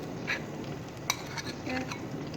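Cream being spooned into carrot halwa and stirred in a pot, with soft scraping and a few light clinks of utensil against metal, fairly quiet, under faint background noise.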